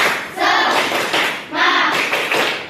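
A classroom group claps in a counted chant rhythm, two bursts of loud, bright, broadband claps separated by a short gap, with voices chanting along.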